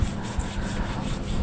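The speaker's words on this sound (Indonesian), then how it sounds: "untuk bagian tepi ini jangan lupa kita haluskan dengan amplas kasar" The edge of a handmade, hand-stitched leather quiver is smoothed with coarse sandpaper, giving a continuous, close rasping rub with a steady rhythm of strokes.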